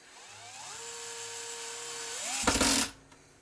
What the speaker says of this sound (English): seat the bit in the screw, turn it on, and we want to loosen it, so we're going to go counterclockwise